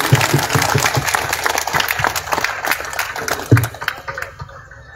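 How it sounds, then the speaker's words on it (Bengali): Applause from a live audience at a Bengali poetry recitation event, a dense patter of clapping that swells and fades over several seconds, with one louder burst near the end before it thins out. "এদের জন্য আপনারা সবাই জোরে জোরে একটা করতালি দিন, জোরে জোরে।"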